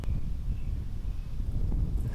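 Steady wind gusting across an outdoor disc golf course beside a pond, a continuous low rumble of buffeting against the microphone with no talking.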